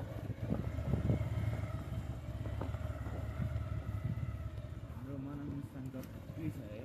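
A motorcycle rides along a mountain road in eastern Nepal, its engine droning steadily under someone talking throughout, with shifts in pitch as it moves.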